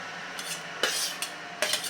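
Chopped onion stirred into rava appe batter in a bowl, giving three short wet scraping strokes of a spoon with quiet pauses between them.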